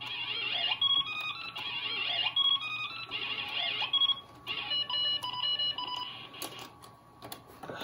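Electronic beeps and chirps from an ESCOM Graymate 486 notebook computer's beeper, repeating in quick bursts at a few steady pitches over a soft background hum, with no talking.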